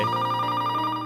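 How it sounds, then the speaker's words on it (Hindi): A telephone rings indoors with a steady, continuous electronic tone that holds for about a second, with no other sounds. "फोन की घंटी"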